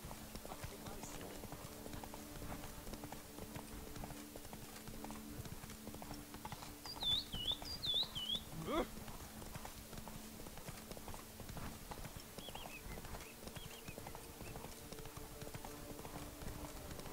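Roach, the horse in The Witcher 3: Blood and Wine, gallops in a steady, rapid clip-clop of hooves that continues throughout, with a brief whinny partway through and someone speaking over it.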